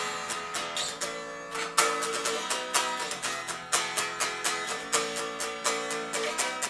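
Recorded guitar rhythm from a song, rapid evenly spaced strums with an echo-like delay repeating each attack, bright and steady throughout at moderate volume, with no voices.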